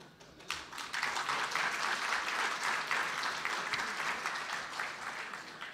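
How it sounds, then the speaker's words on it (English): A crowd claps during a business agreements exchange event, a dense burst of hand clapping with a few sharp individual claps, swelling after half a second and holding fairly steady before easing slightly. "And clapping their hands every sentence."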